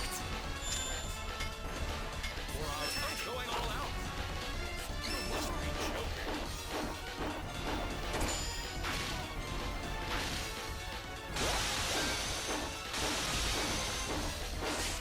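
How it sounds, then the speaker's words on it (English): Treasure chest smashed during a video game battle, a loud crash standing out against dense, continuous game music and effects, with a brighter burst of noise near the end. "He smashes that chest."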